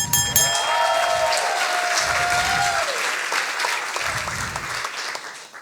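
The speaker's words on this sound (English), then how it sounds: "Big applause for Anna" An audience at a science slam applauds as a speaker takes the stage, loud sustained clapping from a full room with a tonal electronic jingle playing over it and low thumping beats underneath.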